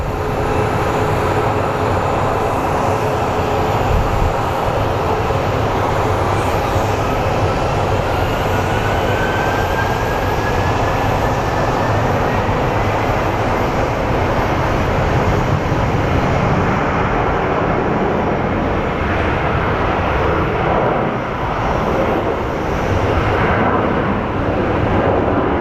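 Frontier Airlines airliner in Island Fox livery departing Phoenix Sky Harbor airport, a loud sustained jet roar with a broad rumbling wash that holds steady and slowly shifts as it climbs away.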